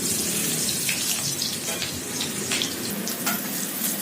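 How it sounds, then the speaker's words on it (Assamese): A ginger, garlic and chili paste fries in hot oil with a loud, continuous, crackling sizzle close up, with no voices. "আমি তেল দিছোঁ কাৰণ আমি মছলা মানে আদা নহৰু আৰু জলকীয়া যিখিনি মিক্স কৰি লোৱা হৈছে মিক্সিত, সেইখিনি ভাজিবলৈ।"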